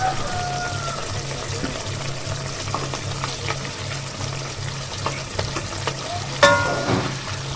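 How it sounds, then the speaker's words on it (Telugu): Fish gravy curry cooking in a pan over medium flame, giving a soft continuous sizzle and bubbling with a low steady hum beneath and a brief clatter near the end, close and fairly quiet. "చూసారు కదండి ఇలా ఉడుకుతుంది, బబుల్స్ వస్తున్నాయి కదా"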